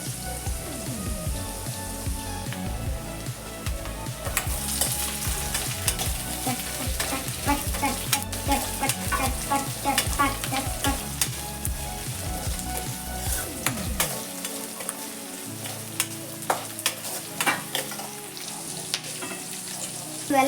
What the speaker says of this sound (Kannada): ಇವೆಲ್ಲ ಸರಿಯಾಗಿ ಫ್ರೈ ಆಗಬೇಕು.